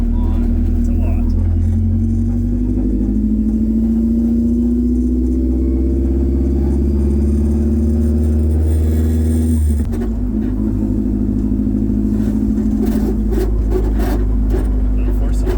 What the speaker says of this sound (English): Well, that exhaust is so bad.